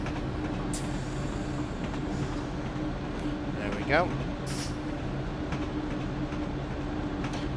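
A Class 172 diesel train slows toward its stop at Walthamstow, a steady low rumble and hum running throughout with a brief squeal-like sweep midway, while a voice speaks briefly over it.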